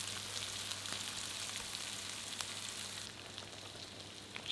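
Sliced chorizo sizzles with onion in a pan, a steady broadband frying hiss with faint crackles throughout, no voices.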